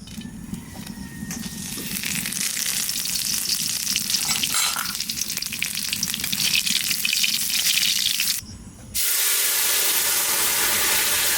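Dry red chillies, bay leaves and cumin crackle and sizzle in hot oil, a loud steady frying hiss that swells and then cuts briefly before resuming, with no voices.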